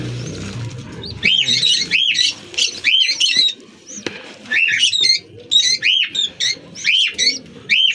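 Close, shrill chirps and squeaky calls from African lovebirds come in quick repeated bursts over a quiet background.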